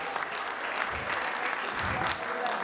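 A concert audience claps steadily and continuously at a show, a dense patter of many hands heard from within the crowd.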